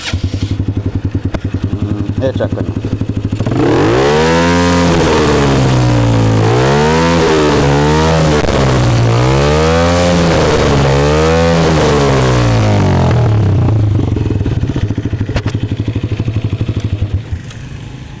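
A modified Honda CBF motorcycle whose engine has started smoking runs at a loud, close idle and is revved hard several times in a row, each rev swelling and falling back, then settles to idle.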